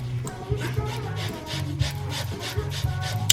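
Lemon zest being grated for a honey maple glazed salmon dish, producing close, rhythmic rasping scrapes in a steady back-and-forth pattern, with no talking.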